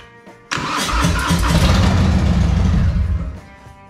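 A 2019 Harley-Davidson Heritage Softail motorcycle engine cranks and catches with a sudden loud burst, then settles into a heavy, rumbling idle close by before cutting off near the end.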